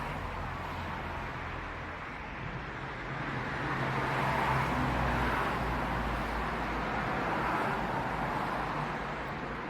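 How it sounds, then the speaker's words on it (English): Traffic noise near a botanical garden in Germany, a steady low roadway rumble that swells as cars pass by midway and then stays fairly loud to the end. "Sorry about the car noise."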